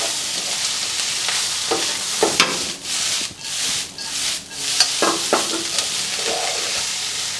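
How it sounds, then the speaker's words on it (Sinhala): Seafood fried rice frying and being stirred in a pan at home, a steady sizzle broken by repeated scraping and stirring strokes, close and fairly loud with no talk. "මේක හොඳට මේක බැදෙද්දී අපි එකතු කරගන්නවා මේ වෙලාවේ මම මගේ බත් එක"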